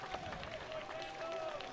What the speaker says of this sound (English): He gets a big round of applause coming off the fields.